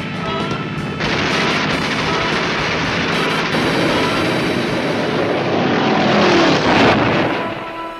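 A propeller-era aircraft roars overhead, its engine noise loud and steady for several seconds, swelling near the end before easing off.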